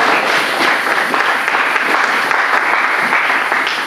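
A church congregation breaks into steady, loud applause after a call to acclaim the word of God, dense clapping filling the space throughout with no voices on top.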